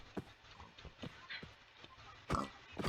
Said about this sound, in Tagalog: Napakadaming baboy.